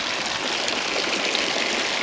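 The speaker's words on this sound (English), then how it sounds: "it already feels like tranquil already, just this nice waterfall" A small waterfall pours into a garden pond, producing a steady, close, broadband rush of falling and splashing water that stays even and unbroken with no voices.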